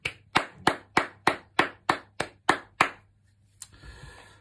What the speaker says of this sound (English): Can we give Florence a big round of applause?